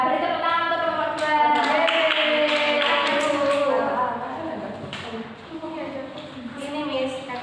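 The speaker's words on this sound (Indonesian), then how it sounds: "Beri tepuk tangan untuk kelompok 2" A primary school class claps for a student group about to perform a role play, with scattered, uneven claps and taps mixed under ongoing children's talk that dominates the room.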